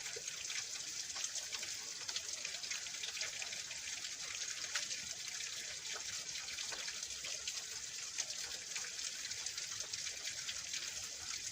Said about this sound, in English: listening to the water.